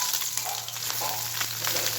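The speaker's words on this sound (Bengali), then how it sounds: "তারপরে এখানে এই যে হালকা করে ভেজে নিচ্ছি।" Amudi fish dipped in a spiced gram-flour batter with chilli powder and salt sizzle as they lightly fry in a pan, a close, dense crackling hiss throughout.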